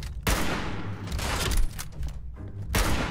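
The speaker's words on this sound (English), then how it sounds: "who's shooting at me now?" Gunfire in the video game Fallout 76, with a few sharp bursts of shots around the player in a fairly quiet mix, coming in separate clusters a second or two apart.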